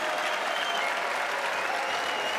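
A crowd at an Age of Empires II esports final, the Red Bull Wololo Londinium event, breaks into dense, sustained applause that stays loud and steady throughout.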